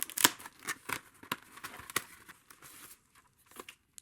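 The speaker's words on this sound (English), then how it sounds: "Cut open the box here." Cardboard box from an office chair package being cut open with a blade, a burst of tearing and crinkling scrapes near the start followed by several shorter slices and rustles, close and fairly quiet, no voices.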